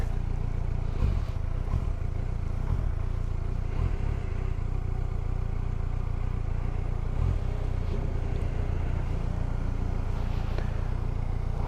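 A Kawasaki Versys 1000 motorcycle pulls away in a 0 to 60 run on a hot, humid day, its engine a steady, loud, close rumble with rattling clatter throughout.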